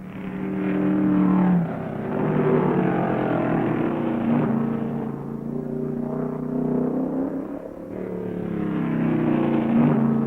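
Stock car engines roar at full speed as Richard Petty leads the final stages of a race, a loud sustained drone that swells and fades as cars pass.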